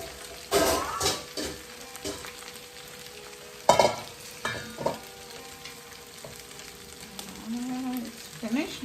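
Ground beef browns in a pot for Jamaican-style golden beef patties, giving a steady close sizzle broken by several loud stirring scrapes and clanks, with a faint voice briefly audible near the end.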